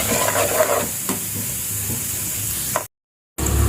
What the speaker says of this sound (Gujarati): લસણની પેસ્ટને આપણે થોડી સાંતળી દઈશું કે તેલમાં લસણનો ટેસ્ટ સરસ આવી જાય ત્યાં સુધી.